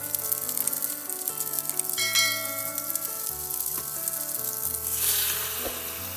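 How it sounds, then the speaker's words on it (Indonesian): Croffle batter baking in a hot waffle mold, with a steady close sizzle running beneath prominent melodic background music for the whole stretch. "Setelah panas, panggang adonan croffle sampai matang."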